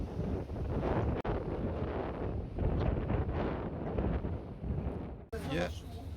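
Wind and sudden squalls on a sailboat at sea, gusty rushing roar with heavy microphone buffeting that rises and falls, a brief cut near the end, with a voice speaking over it.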